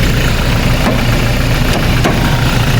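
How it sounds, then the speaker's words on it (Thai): A car engine idles smoothly and steadily, a loud, even low hum with a few faint clicks and no talking. "เครื่องยนต์เดินนิ่งๆแบบนี้ครับ"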